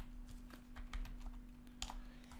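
Keys tapped on a computer keyboard in a few quick, scattered strokes, close and fairly quiet over a steady low electrical hum.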